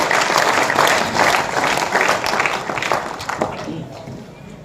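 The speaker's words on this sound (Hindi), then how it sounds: "एक बार आगे से पीछे तक जोरदार तालियां बजाकर मुझे मन दीजिए।" An audience at a Hindi poetry gathering (kavi sammelan) in Daltonganj breaks into loud, sustained applause that thins slightly toward the end, with some crowd voices mixed in.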